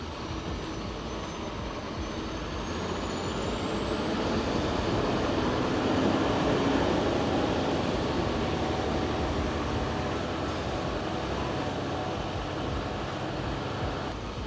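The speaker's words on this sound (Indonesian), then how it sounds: "Coba kita bawa mobil ini ya. Ini sebenarnya sama kayak bawa mobil biasa nih, mobil kopling ya." Hino FM 280 JW self-loader truck driving, a steady loud engine and road rumble throughout with a rising whine as it gathers speed, no talk.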